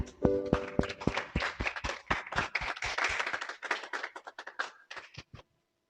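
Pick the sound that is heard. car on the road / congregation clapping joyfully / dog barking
congregation clapping joyfully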